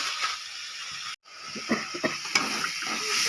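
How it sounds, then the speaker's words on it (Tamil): Onions sauté in a pan with a hissing, steamy sizzle, broken by a brief silent gap and a few soft scraping clicks from stirring, heard up close without talk. "வெங்காயம் நல்லா வதங்கட்டும்"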